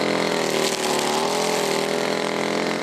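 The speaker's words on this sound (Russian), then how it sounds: "Триммер влево, триммер вправо, и вот уже сорняки склонили головы." String trimmers cutting weeds along a roadside verge in Sovetsky district, a loud, steady motor whine holding at high volume for the whole stretch with a slight dip in pitch partway through.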